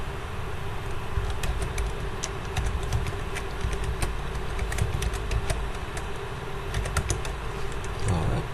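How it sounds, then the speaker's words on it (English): Numbers are typed on a computer keyboard in irregular bursts of crisp, close key clicks over a steady low background hum. "Oops, typing a number wrong."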